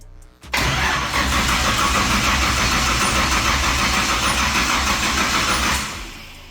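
An old, long-forgotten racecar engine cranks briefly, then catches and runs loud and steady at close range, its rough rumble revving and holding for several seconds before easing down at the end.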